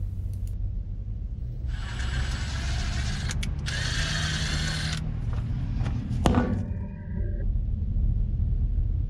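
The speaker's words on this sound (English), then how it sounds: "Now it's time to run the tap through." Power drill running a tap with cutting oil through pre-drilled holes in metal for a slide gate installation, two bursts of high whirring a few seconds each, then a brief ratcheting stop, close by over low rumble.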